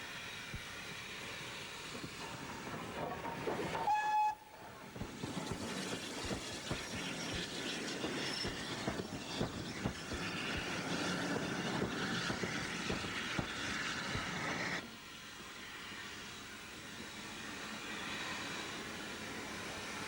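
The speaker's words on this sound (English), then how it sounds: "the trains emerge from amongst the pine trees and run into Levisham station" On the North Yorkshire Moors Railway, a train runs into Levisham station through a pine-wooded gorge, a steady loud rumble and rattle of wagons that holds for several seconds and then drops to a softer roar.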